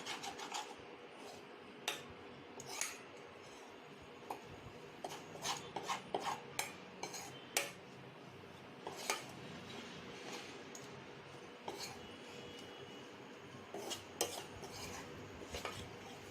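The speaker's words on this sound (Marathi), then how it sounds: "बाकी मसाले आपल्याला इथे मिक्स करून घ्यायचे." Chicken and spices being mixed in a pan for chicken sukka, with a continuous scraping stir and frequent sharp clinks of a spoon against the pan, close and fairly steady, with no talk.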